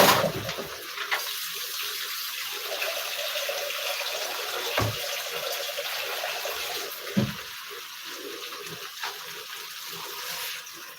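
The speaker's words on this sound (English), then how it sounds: "So I'm gonna put in some water." Water pours steadily into a cooking pot, a continuous close gushing splash lasting several seconds with a few brief knocks, no talking.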